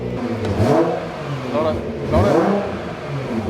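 A Raptor pickup truck engine revs loudly twice in quick succession, rising and falling, close by with a steady rumbling idle underneath.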